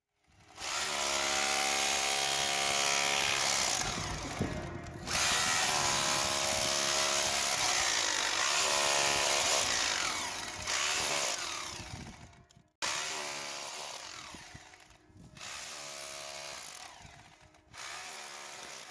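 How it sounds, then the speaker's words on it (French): Chipping hammer scraping out mortar joints between stones, a loud continuous rattling buzz that runs in long bursts separated by brief pauses, close up with no talk. "Il est important que ce soit fait de manière uniforme et donc avec un burineur."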